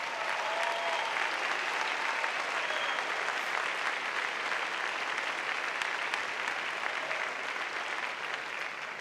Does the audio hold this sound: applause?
yes